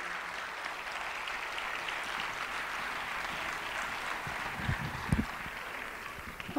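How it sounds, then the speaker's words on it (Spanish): An audience applauds steadily at a distance, a dense wash of clapping that carries on throughout, with a few thumps near the end. "Un fuerte aplauso, por favor."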